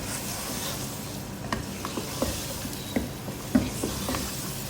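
Half a kilo of mutton frying (bhuna) in a pot, with soft scraping stir strokes at irregular intervals over a low, steady sizzle, fairly quiet and close.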